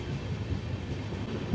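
The Ratnachal SF Express, running from Nuzvid towards Eluru, gives a steady low rumble with a faint rattle throughout, heard from inside, no talk.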